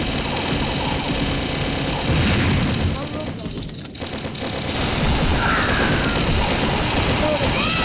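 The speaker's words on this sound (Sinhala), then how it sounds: "අරුට බෝම්බයක් දැම්ම guys." Explosions and gunfire from the Mini Militia mobile game ring out in a continuous dense cacophony of booms and shots across the whole stretch, with a brief lull near the middle before the barrage resumes.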